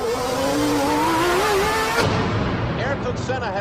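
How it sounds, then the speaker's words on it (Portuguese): Ayrton Senna's racing car screams at high revs in a rising, whining engine note, then a sudden sharp crack of impact against the wall is followed by a rough, fading engine sound and scattered mechanical noises. "Ayrton Senna has hit the wall."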